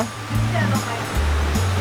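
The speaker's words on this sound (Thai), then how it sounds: "ตรงนี้เป็นลำธารเหรอ" Water rushes steadily in a stream beside a riverside coffee shop in Ranong, Thailand, a continuous broadband flow with low rumbling tones running throughout.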